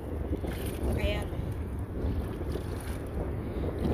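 Strong wind at a beach in La Union, Philippines, rumbles and buffets the microphone in continuous gusts, with surf and faint voices beneath.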